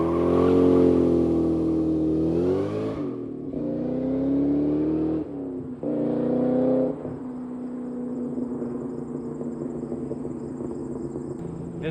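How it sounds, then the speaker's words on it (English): A Terminator Cobra engine fitted with a Bassani catted X-pipe and Borla Stinger S-type exhaust revs loudly and close for about three seconds, drops, surges again twice, then settles into a steady idle. "We got the Bassani catted X-pipe and the Borla Stinger or S-type exhaust."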